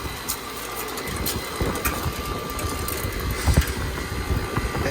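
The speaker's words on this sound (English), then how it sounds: "All right, the AC unit is working." An old air conditioning unit runs with a steady mechanical drone and rattly low hum, joined by intermittent clicks and knocks close by.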